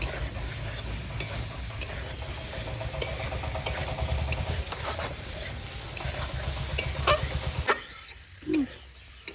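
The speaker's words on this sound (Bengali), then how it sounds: "আলু কষানো হয়ে গেছে, এবার কাঁচা টমেটোগুলো দিয়ে দেবো। একটু কষিয়ে তারপরে জল দিয়ে দেবো।" Potatoes and raw tomatoes sauté in a pan for a Rui fish curry, giving a steady sizzle with scraping stirs for most of the stretch before the frying fades near the end; no one speaks.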